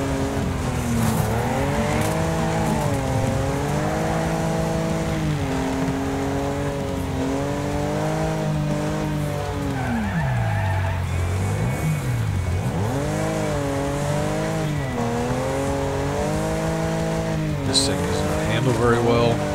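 Engines drone and rev in a Wreckfest demolition-derby race among combines and school buses, pitch rising and falling as cars accelerate, with tire squeals and crashing impacts, while a person talks over it.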